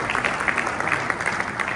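An audience at a Ghana-EU business event applauds steadily, a dense patter of many hands clapping at close range for a couple of seconds.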